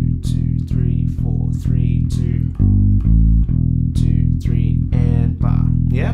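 A blues bass riff stretched over four bars, with a small walk-up in the third bar, repeating steadily and loud with no voice over it.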